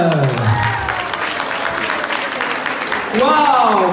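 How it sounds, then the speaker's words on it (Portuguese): A crowd at a village carnival costume contest applauds loudly and steadily, dense clapping mixed with cheers and voices, swelling again near the end as a presenter speaks over it. "Uma grandiosa sala de palmas!"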